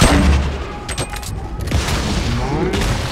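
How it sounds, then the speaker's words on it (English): Grenade launcher blasts in the video game Fortnite go off as a burst of booming explosions and crackling impacts, loud and close, followed by rumbling game noise. "Just throw a bunch of grenade launchers in there"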